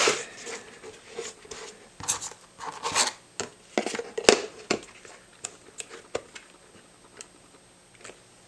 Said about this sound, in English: And then we'll cut the miters on the foredge.